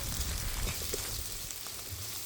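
Sliced onions and curry chillies sautéing in a pan for kothu roti, a soft steady sizzle with faint stirring scrapes and no voices.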